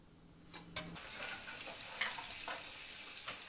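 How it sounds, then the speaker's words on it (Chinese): Boiled lamb ribs pan-frying slowly over low heat, giving a quiet, steady sizzle with a few soft clicks and taps of utensils scattered through, no voices. "煮过的羊排继续用小火慢煎"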